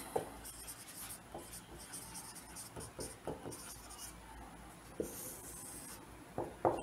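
Chalk or marker scratching across a classroom board as a chemical equation is written, soft rubbing strokes with a few sharper taps, close and fairly quiet with no talking.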